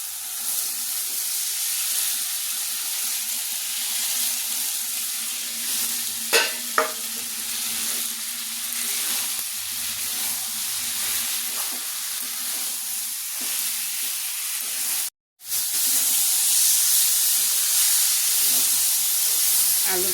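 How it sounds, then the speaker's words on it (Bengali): Vegetables hiss and sizzle in hot oil in a pan while being stirred for a kachki fish curry, a steady close frying crackle with a few sharp scrapes of the spoon and a brief gap near the end. "হালকা তেল ছেড়ে দিয়েছে, সবজিটা দিয়ে আর একটু কষাবো।"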